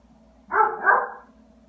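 A German Shepherd dog gives a single close, loud bark, a short double-peaked woof rising out of a quiet room and fading within about a second.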